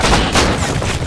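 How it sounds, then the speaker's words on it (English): Rapid gunfire aimed at a helicopter in the survival game Rust, a loud burst of close overlapping shots filling the whole short moment. "Yo, don't shoot the heli, man."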